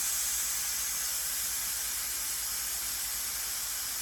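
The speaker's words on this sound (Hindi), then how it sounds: "इसकी स्टीम के ख़त्म होने का इंतज़ार किया।" Steady, loud hiss of steam escaping from a pressure cooker cooking masoor dal, continuous and unbroken throughout with no voices.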